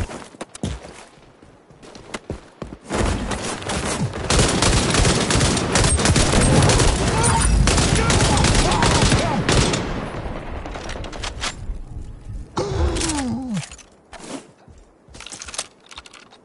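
Dense, sustained bursts of automatic gunfire from an xDefiant match on PS5 roll on for several seconds at close range, easing off into scattered single shots and clicks near the end, with no talking over it.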